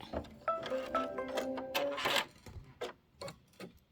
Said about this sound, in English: And now it's going to do the quilting